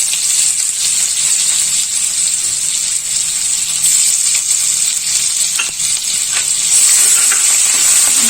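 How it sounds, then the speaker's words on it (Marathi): Crushed ginger and garlic sizzling in hot oil with cumin and asafoetida, a steady loud hiss of frying with occasional stirring clinks, close up and without any voices. "आलं लसूण जरा तेलामध्ये व्यवस्थित परतवून घ्यायचं"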